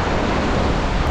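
Strong wind and sea waves on a Dagestan beach during a storm make a dense, loud roar of surf and buffeting wind, unbroken for a brief moment with no talking.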